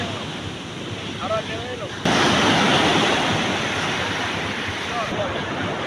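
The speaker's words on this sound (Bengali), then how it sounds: "সমুদ্র সৈকতের যে ঢেউ আসতেছে" Ocean waves wash onto Cox's Bazar beach at night in a steady roar, surging louder partway through, with wind noise over the microphone.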